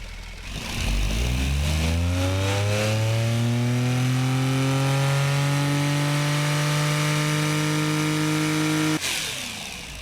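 A turbocharged 166-horsepower sedan engine in the BeamNG driving game revs up steadily from idle to a loud sustained high whine, holding for several seconds before cutting off abruptly near the end.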